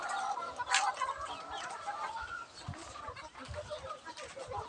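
Chickens cluck in a poultry house on a warm, breezy day, with scattered clucks and calls at moderate distance over steady farmyard background noise.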